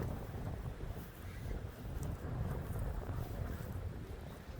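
Stiff wind at a beach buffeting the microphone in a continuous low, rumbling roar that swells and eases slightly, loud and close, with no other clear sounds.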